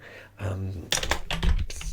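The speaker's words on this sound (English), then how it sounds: "If you see me looking down and typing, I'm not ignoring you or trying to be rude." Fingers type on a computer keyboard during a soft-spoken job interview roleplay, giving a cluster of close, crisp key taps after a brief murmur of a quiet voice.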